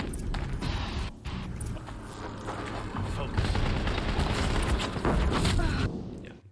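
Gunfire in Horizon Zero Dawn, played on Ultra Hard in a snowy area, comes as dense, continuous rapid shots and heavy booms under steady game noise, loud and close throughout.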